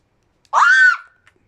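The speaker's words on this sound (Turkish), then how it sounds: "Çok erkeksi çığlıklarım." A man lets out a single short, loud scream while playing Rocket League, rising and then fading within about half a second against silence.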